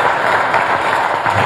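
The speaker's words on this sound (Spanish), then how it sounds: "Así que un aplauso otra vez para ustedes mismos." Audience applause at a school recognition ceremony held by a municipal office, a steady wash of many hands clapping at once, fairly loud and continuous with no talk over it.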